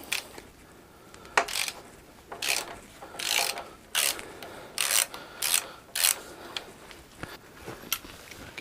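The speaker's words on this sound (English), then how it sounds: "Now we're going to undo the pinch bolt for the rear chain adjuster." A ratchet undoes the rear chain adjuster pinch bolt on a Triumph Speed Triple motorcycle, giving repeated bursts of close, sharp clicking strokes with brief pauses between them.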